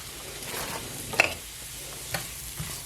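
Onions frying gently in bacon grease for a quiche, with a soft, low sizzle and a few light stirring clinks and scrapes.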